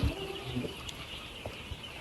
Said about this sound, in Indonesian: Satu kandang ini isinya 24 ekor burung puyuh.